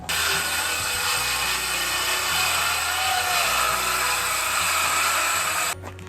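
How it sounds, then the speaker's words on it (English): A circular saw runs continuously through a wooden pallet lid along a support beam, a loud, steady whining drone close by that holds for several seconds and then drops off abruptly near the end. "we're gonna cut this lid using a circular saw right along this one support beam"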